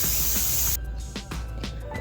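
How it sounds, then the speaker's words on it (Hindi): Steam blasts out of a pressure cooker after beef with turnips has cooked for about 30 minutes: a loud, steady hiss that cuts off abruptly under a second in, followed by a few faint clicks and rattles. "जब प्रेशर कुकर खोलते हुए हमेशा इसकी स्टीम को अच्छे से रिमूव कर दिया करें"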